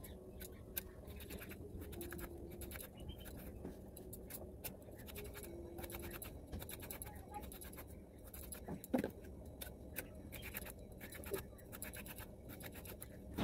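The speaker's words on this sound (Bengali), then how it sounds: "এখানে ঝপঝপ করে আনাজ কটা কেটে নিচ্ছি" A knife chops quickly through vegetables such as pumpkin, pointed gourd and potato in a home kitchen, giving a dense run of scratchy, scraping cuts with one sharper knock near the middle, all under steady background noise.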